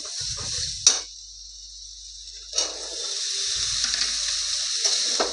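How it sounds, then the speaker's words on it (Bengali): Chickpeas fry with spice masala in a pan, a steady sizzle punctuated by a couple of sharp stirring clanks and scraping sounds. "ছোলাটাকে দিয়ে খুব ভালো করে মশলাটার সঙ্গে কষাবো 2 মিনিটের মতো।"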